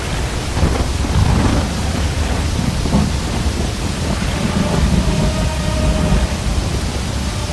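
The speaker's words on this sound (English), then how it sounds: "There's been a tumultuous rain, and it has flooded the whole area." Thunder rumbles beneath a steady roar of heavy, pouring rain in an animated film about the Buddha, the storm dense and loud throughout, with a rolling low rumble swelling and fading over the downpour.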